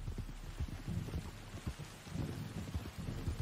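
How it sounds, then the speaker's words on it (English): Rain falling in the Red Dead Redemption 2 game world, a soft, steady low patter with faint distant rumbling, quiet and continuous with no voices. "You were right about the damn rain."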